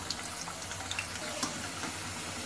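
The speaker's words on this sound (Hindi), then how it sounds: "अभी आलू को फ्राई कर लेते हैं, 2-3 मिनट में" Potato pieces frying in oil in a pan while mutton kofta curry is made, giving a steady, soft sizzling hiss with faint crackles throughout and no talking.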